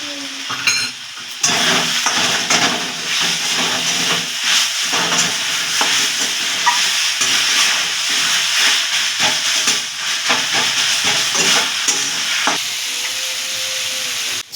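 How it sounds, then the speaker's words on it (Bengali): Vegetable puri filling stir-fried in a pan with salt and ground cumin, black pepper and turmeric, a steady loud sizzle and hiss with scraping stirs throughout, no talking. "জিরের গুঁড়ো, গোলমরিচ গুঁড়ো আর হলুদ গুঁড়ো দিয়ে এটাকে কিছুক্ষণ কষিয়ে নিতে হবে।"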